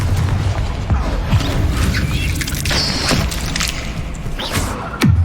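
Confringo fire spell blasting in Hogwarts Legacy, heard as loud, dense booming bursts and crashing impacts layered over continuous game action and effects, with a final sharp hit near the end.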